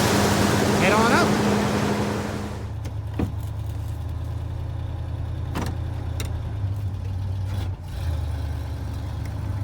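A crashed Ford Mustang Fox body runs and drives close by, its steady low engine rumble continuing after voices talk briefly at the start, with a few sharp knocks and clunks along the way.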